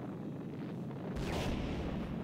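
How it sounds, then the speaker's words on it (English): An explosion in the Sonic Superstars video game booms out of a rumbling game soundtrack, a sudden loud blast with a rolling tail and no voices. "An explosion!"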